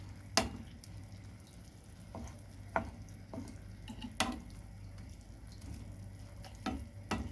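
Squid frying in a pan with oil for a Moroccan seafood tagine, a steady low sizzle broken by a few sharp crackles and pops, with no talking.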